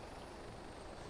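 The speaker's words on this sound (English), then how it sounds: "Another heli." A helicopter in the video game DayZ gives off a faint, steady rotor drone for about a second, heard alone without speech.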